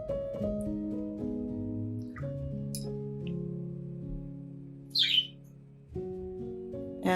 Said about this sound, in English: And that would be Kiwi, my parakeet in the background.